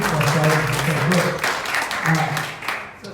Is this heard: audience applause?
yes